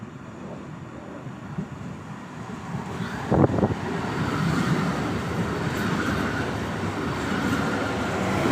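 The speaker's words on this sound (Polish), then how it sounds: "Wjeżdża pociąg Regio relacji Szczecin Główny Świnoujście." A Regio regional passenger train from Szczecin Główny to Świnoujście rumbles steadily as it pulls into Goleniów station, with a brief clanking burst midway and a constant rushing roar building slightly toward the end.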